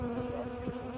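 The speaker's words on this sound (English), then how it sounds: "I'm pretty sure these are all Apis mellifera" Western honeybees (Apis mellifera) buzzing close by in a garden, a steady droning hum with a clear tone and slight wavering pitch, continuous through the moment with no voices.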